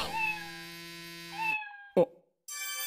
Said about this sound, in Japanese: 着信音を猫の鳴き声にしちゃった。